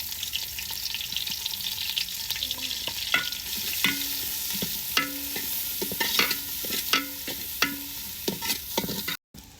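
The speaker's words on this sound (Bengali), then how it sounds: "তেলটা গরম হয়ে গেলে এখানে পেঁয়াজ কুচি আর রসুন কুচি দিয়ে দিলাম।" Chopped onion and garlic frying in hot oil for khichuri, a steady close sizzle with repeated stirring scrapes of a utensil in the pan, no voices.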